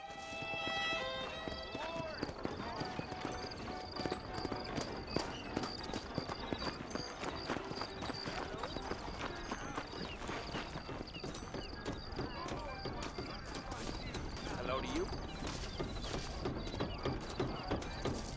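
Horse galloping in the Red Dead Redemption video game, a steady rapid clip-clop of hooves running continuously under game music and ambience, with an occasional whinny.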